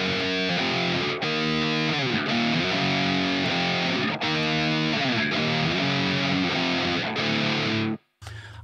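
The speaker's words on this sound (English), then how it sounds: "At the minute I've just got the noise gate and the drive engaged." Distorted electric guitar through an amp sim with noise gate and drive engaged plays chugging chords and riffs with a crunchy driven tone, ending in an abrupt cut to silence before a final short hit.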